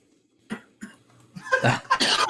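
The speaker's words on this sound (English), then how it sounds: "I can't hear you through the coughing." Several coughs and throat-clearing sounds in quick succession, starting sparse and growing louder and more clustered, close to the microphone with no talk.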